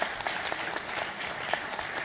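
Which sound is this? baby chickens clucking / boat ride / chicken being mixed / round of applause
round of applause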